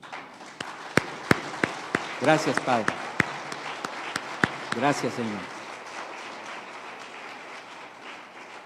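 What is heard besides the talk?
congregation applause in church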